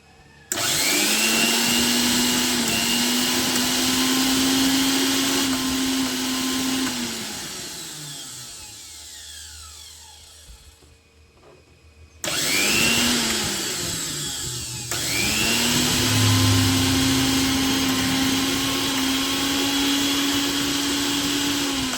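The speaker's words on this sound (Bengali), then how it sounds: "মিক্সার গ্রাইন্ডারের মেশিনটি।" A close electric mixer grinder on a 230 V supply whirs with a loud, steady motor whine, then winds down to near silence. It starts up again and keeps running, with one brief dip in speed along the way.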